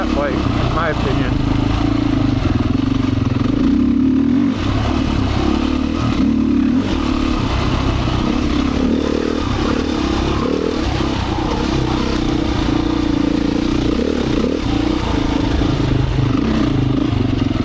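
A Beta 500 dirt bike rides a trail loop at Black Lake in Michigan, its engine droning steadily and loudly throughout with shifting load, mixed with wind and the clatter of the ride.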